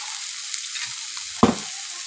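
Ginger and green chilli fry in a pan with ground cumin, chilli powder and turmeric, giving a steady soft sizzle with one short louder sputter midway.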